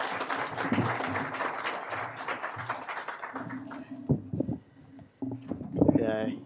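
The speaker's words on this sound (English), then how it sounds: "With a round of applause, ladies and gentlemen." An audience at a formal Foreign Service Academy function breaks into scattered applause, moderate and somewhat distant, which fades as a speaker's voice continues over it.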